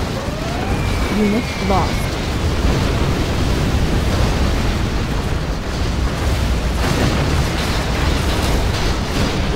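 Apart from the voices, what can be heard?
Scud Storm missile explosions in Command & Conquer: Generals Zero Hour video game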